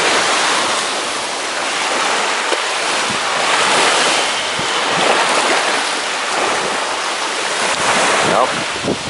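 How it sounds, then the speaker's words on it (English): Strong wind buffets the microphone on the Lake Erie shore near Cleveland, Ohio, with waves rushing and breaking underneath in a loud, continuous roar that swells and eases throughout. "With the wind factor here, I'm not entirely sure y'all are going to be able to hear me"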